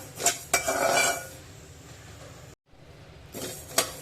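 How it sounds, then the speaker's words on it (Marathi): Rice dry-roasting in a pan toward golden brown, with close scraping and rustling strokes and a few metallic clinks, one brief silent gap midway, then more stirring. "त्यांना आपण चांगले गोल्डन ब्राऊन कलर पर्यंत भाजून घेऊया"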